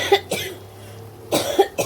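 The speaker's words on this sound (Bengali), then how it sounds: "শরীরটা আমার এতই খারাপ ছিল যে কাশতে কাশতে আমি ভালো করে কথাই বলতে পারছি না কারোর সাথে" A woman who is ill coughs in a kitchen: a couple of short coughs, a pause, then a harsher burst of several coughs, close and fairly loud with no talk.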